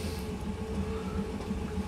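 A train in the Train Simulator 2018 video game rumbles steadily as it pulls into a station at Brighton, with a continuous low mechanical drone and no voices.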